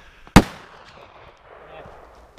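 A single sharp, loud gunshot from a .500 S&W Magnum revolver, fired once close by, with a brief decaying echo and quiet outdoor background afterward.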